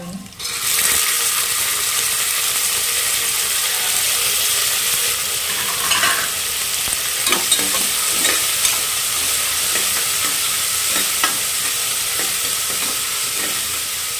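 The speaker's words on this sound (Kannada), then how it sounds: "ಎರಡು ನಿಮಿಷ ಅಷ್ಟೇ ಎಣ್ಣೆಯಲ್ಲಿ ಫ್ರೈ ಆಗಲಿ" Radish greens and legumes frying in oil in a pan, with steady close sizzling and occasional scraping stirs, continuous and fairly loud throughout.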